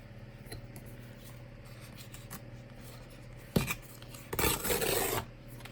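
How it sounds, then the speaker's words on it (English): Book paper edges being torn by hand during collage work, a short rough rip followed by a longer tearing rasp, close and fairly quiet, with no talking. "And then we can just tear off the other edges."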